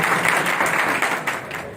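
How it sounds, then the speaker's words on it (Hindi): Audience at a blood donation camp in Kurukshetra claps steadily, a dense, even wash of applause with no talk over it. "मैं चाहता हूँ कि ताली के माध्यम से इस ग्रुप का धन्यवाद करें।"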